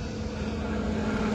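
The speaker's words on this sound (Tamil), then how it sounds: "ஹெலிகாப்டர் பார்க்குறீங்களா? இங்கே பாருங்க," A helicopter drones overhead above a cricket ground, a steady loud engine and rotor hum with a strong low tone that holds through the whole short stretch, with no voices.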